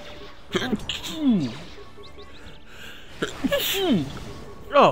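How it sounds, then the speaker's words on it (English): A man sneezes once in the middle of gameplay audio from a Star Wars: Knights of the Old Republic II session, with game voices and effects around him and loud bursts near the start and end. "that I haven't sneezed in a long time"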